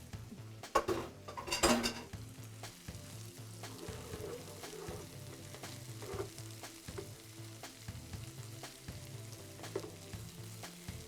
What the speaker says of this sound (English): So we'll get this all fried up